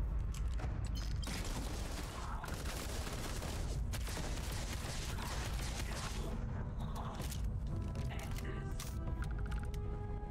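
Gunfire in the sci-fi video game Starfield, a dense continuous barrage of loud shots and booms running through the whole clip with no breaks.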